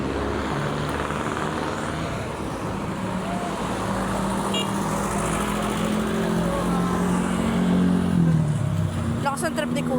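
Passing road traffic rumbles by on a windy day, a steady wash of engine and tire noise with one vehicle swelling louder near the end, while a person talks over it.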